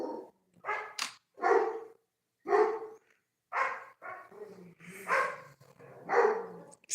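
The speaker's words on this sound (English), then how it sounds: "these animals are really playing up their ass, barking in the middle of the night" Dogs barking in the middle of the night, around 2 a.m.: a string of about ten sharp, fairly loud barks in irregular bursts, some overlapping, with short silences between them and no talking.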